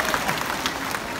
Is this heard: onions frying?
no